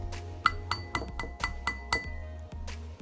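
A metal teaspoon clinks repeatedly against the inside of a water-filled glass while stirring, a series of bright, ringing taps at a steady, slightly uneven rhythm, close and clear with no talking.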